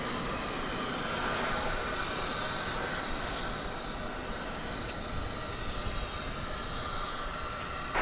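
A jet airplane roars at DFW Airport in a steady, broad engine rumble that holds loud and constant throughout, heard outdoors from a plane-spotting position.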